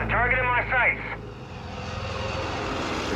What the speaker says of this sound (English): Just the plane bombed us.